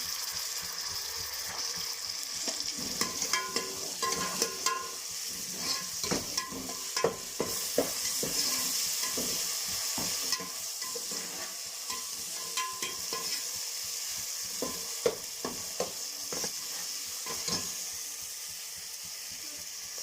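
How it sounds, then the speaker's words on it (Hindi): Garlic and ginger paste goes into a pan of browning onions and sizzles steadily while a spoon stirs it, giving repeated scraping clicks over a constant frying hiss. No one speaks. "अब हम इसमें लहसुन और अदरक का पेस्ट डालेंगे।"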